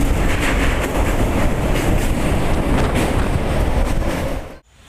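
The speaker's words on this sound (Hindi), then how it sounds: "ये रही यहाँ पे तीन कोच वाली छोटी पैसेंजर ट्रेन जो एट से कोच के बीच चलती है।" Small three-coach passenger train running between Etah and its connecting station in India, a loud steady rumble and rattle with wind noise, close by, cutting off abruptly at the end.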